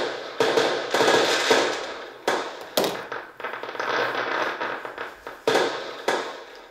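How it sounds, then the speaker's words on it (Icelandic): Fireworks play from a television video, a series of loud crackling bursts and pops with sharp onsets and fizzing tails, sounding through a room without talk. "Eitt af því sem við fengum, það var að horfa á svona myndbönd af flugeldum með hljóðum."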